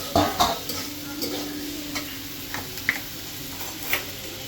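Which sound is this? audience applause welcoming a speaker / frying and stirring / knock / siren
frying and stirring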